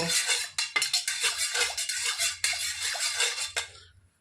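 A utensil scrapes and clatters against a pan in quick, uneven strokes as green banana is stirred with salt and turmeric, close and fairly quiet.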